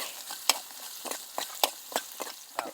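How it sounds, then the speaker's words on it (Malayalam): Finely chopped small onions frying in oil with dried red chilies for a Kerala raw mango curry; a steady soft sizzle is broken by repeated sharp stirring scrapes at irregular intervals, close up. "ലേശം ഉള്ളി, ചെറിയ ഉള്ളി ചെറുതായിട്ട് അരിഞ്ഞത് കൂടി ഇട്ട് കൊടുക്കാം. അതിനി ഒന്ന് മൂത്ത് വരട്ടെ ഉള്ളി"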